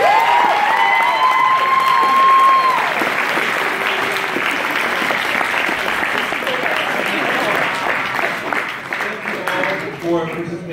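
A convention audience at a script reading in DC gives loud, sustained applause with some cheering, with a tone sounding at the start and a few voices rising near the end.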